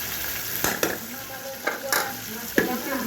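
Sea fish frying in a generous amount of oil, a steady close sizzle broken by a few sharp stirring scrapes and knocks in the pan.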